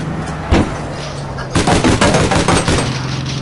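Video game APB gunfire: a single sharp shot, then a dense rapid burst of automatic fire, close and loud, with faint game ambience between.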